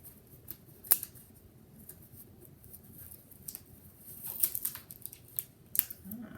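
Cricut Everyday vinyl is peeled by hand off a 20/80 cotton/poly fabric. Soft crinkling and scattered sharp little snaps and ticks come close up, with quiet gaps between them.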